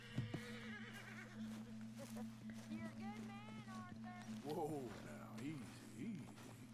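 A horse in the video game Red Dead Redemption 2 gives wavering whinnies and snorts, rising and falling between about 3 and 6 seconds. A steady hum sits underneath, and someone talks softly over the animal.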